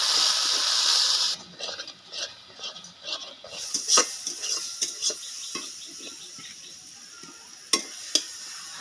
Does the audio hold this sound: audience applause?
no